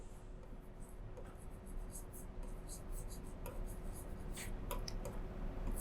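Pen or pencil writing by hand on paper, a steady soft scratching that continues close and quiet for several seconds, with faint faster strokes toward the end.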